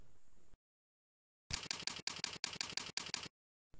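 Quick bursts of keystrokes on a computer keyboard, about a dozen clicks in a tight run after a moment of silence, close and crisp.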